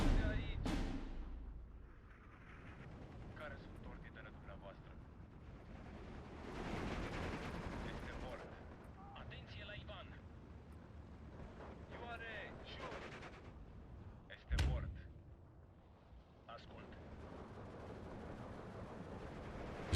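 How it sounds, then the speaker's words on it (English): Strafing-run gunfire in the World War II strategy game Steel Division 2, distant rattling bursts and rumbling impacts layered under game ambience, with a sharp louder crack partway through. "Strafing run seems to do a decent amount of damage."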